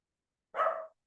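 A single short bark from a dog, clear and fairly close, standing alone in silence.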